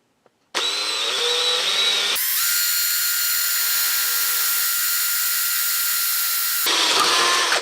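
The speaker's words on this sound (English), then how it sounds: "drill right here" A power drill whirs loudly and continuously for about seven seconds, its pitch shifting as it bites into a metal bracket for a WR250E motorcycle, then winds down.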